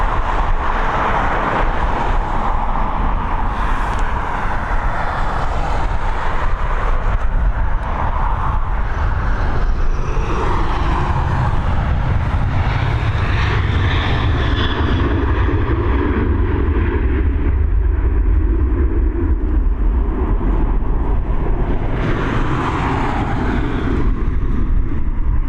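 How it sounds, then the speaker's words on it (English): Boeing 737 airliner taking off from Dublin Airport, a loud continuous jet roar with heavy low rumble that swells and shifts in pitch as the aircraft departs, filling the whole stretch without a break. "We've got this Boeing 737 eventually departing us."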